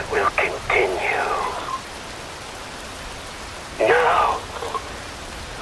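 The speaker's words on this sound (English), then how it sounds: "Wind blows, rain falls." Steady rain falls in Metal Gear Rising: Revengeance, a constant hiss of rainfall running underneath the whole clip while a voice speaks briefly at the start and again near the end.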